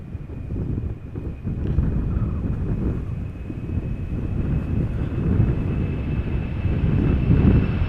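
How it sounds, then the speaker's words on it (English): A Boeing 767-300ER on its takeoff roll and climb at Amsterdam Schiphol, heard from outside as a steady, broad jet roar that swells slightly over time, with wind buffeting the microphone. "expect a quick takeoff roll and a steep climb"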